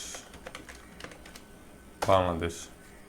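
Soft keyboard clicks sound while a Python string example is typed during a coding lesson. The sparse taps are near and faint, and a voice then talks briefly over them.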